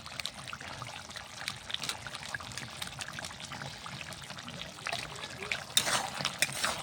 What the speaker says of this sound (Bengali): এখন আমি মাংসটাকে ঢেলে নিব।